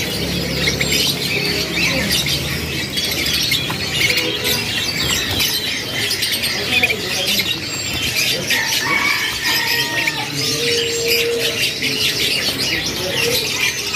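Many caged canaries at a bird market keep up continuous, dense chirping and squawking, with occasional wing flaps in a busy, crowded setting.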